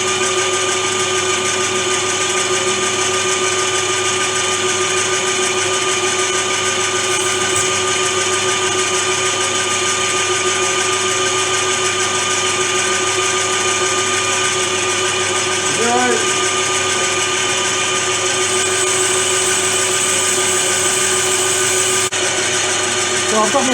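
A metal-cutting machine runs steadily in a workshop taking two light 10-thousandths-of-an-inch cuts, a constant tonal whine and hum with a brief clunk near the middle, loud and unbroken throughout.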